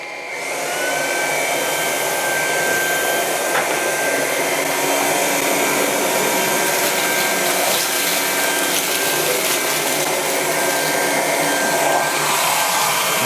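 A Dreame Z30 cordless vacuum running at maximum power with its mixed brush on carpet gives a steady, loud, even whine and rush of air that holds unbroken throughout, with no talking.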